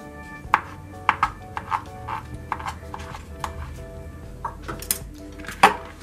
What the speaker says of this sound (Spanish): Ahora vamos a seguir picando nuestros duraznos,